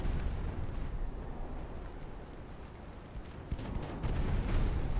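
Three-inch guns fire in a British long-campaign war game, a dense, continuous barrage of loud rumbling booms that swells heavier near the end.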